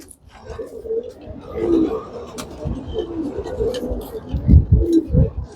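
Soft, low pigeon coos repeat nearby in a gentle rhythm, with a few light rustles in between.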